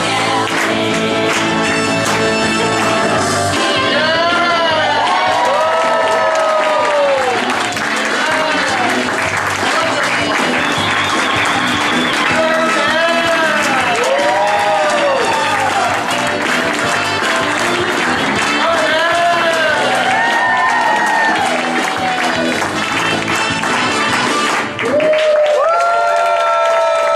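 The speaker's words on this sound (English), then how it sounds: "Get your hands clapping." A live audience at a comedy stage show applauds loudly and continuously for over twenty seconds, dense clapping mixed with cheers and whoops, while someone speaks over a microphone.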